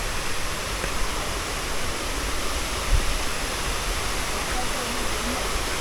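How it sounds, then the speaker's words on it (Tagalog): Balagbag Falls, a waterfall at a riverside resort, fills the scene with a steady, dense rush of falling water, loud and unbroken throughout with one brief thump near the middle. "Oh, ayan na yung falls eh."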